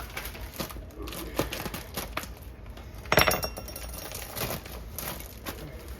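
A knife slicing thick-cut Aldi pepperoni inside its plastic bag, giving soft crinkling and scraping with a louder crackly burst midway, close and fairly quiet.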